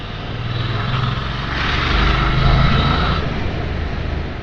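A QJ Motor SRV 550 motorcycle lugs along in sixth gear at 40 km/h, giving a steady low engine drone mixed with wind rush that swells briefly in the middle.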